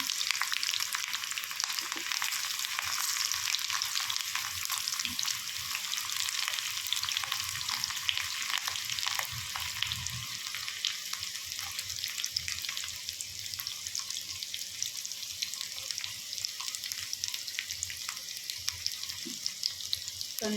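Oil and chopped onion fry in a pan for a cauliflower fry, giving a steady bright sizzle that stays close and continuous throughout, with faint stirring scrapes and no voices.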